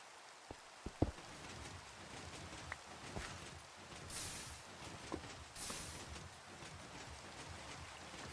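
Rain in Minecraft survival mode, a soft continuous patter at low level, with a few brief knocks and clicks and two short bursts of brighter hiss over it.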